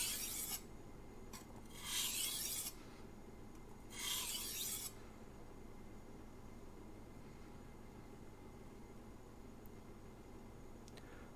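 Knife blade drawn across a single whetstone in a few deliberate strokes, two clear gritty rasps standing out briefly against a quiet background hum.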